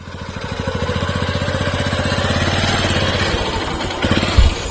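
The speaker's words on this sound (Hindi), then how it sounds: "कहीं से मोटरसाइकिल की आवाज़" A motorcycle engine runs steadily and loudly at close range on a rural village path near fields and woods in Maharajganj, with a rapid throbbing pulse and a few louder bumps near the end.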